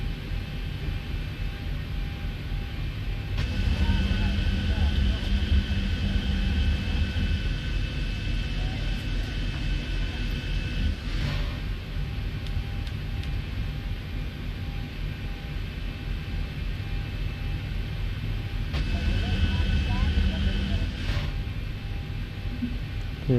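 Simulated jet engines of a Qantas Boeing 737-800 hum steadily during taxi in X-Plane 11, a constant broad whine and rumble with a couple of brief swells and clicks, and no talk over it.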